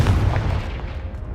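A Confringo blasting curse goes off in Hogwarts Legacy: a deep, heavy explosion booms at the start, then its rumble fades away over about a second, with no other sound on top.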